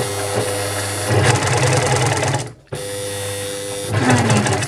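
An overlocker sewing machine stitches a fabric seam in fast, steady mechanical whirring bursts. It stops abruptly for a moment partway through, then runs again at close range.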